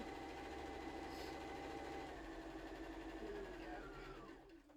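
A sewing machine stitches a star table topper with a steady, close mechanical whir that runs continuously and fades near the end.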